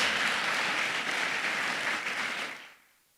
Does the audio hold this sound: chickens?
no